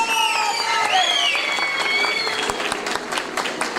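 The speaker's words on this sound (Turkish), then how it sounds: "Alkışlar Şeniz Başkanımız için geliyor efendim." Guests in a wedding hall at a civil marriage ceremony applaud the mayor, a sustained crowd clapping with cheering and whistle-like tones, voices mixed in and a few sharper claps standing out.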